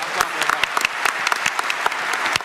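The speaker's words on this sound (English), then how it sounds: "A round of applause for Chris" Audience applause at a gaming convention panel for Anthem at PAX West 2018, steady clapping from a crowd filling the room, moderately loud with sharp individual claps standing out.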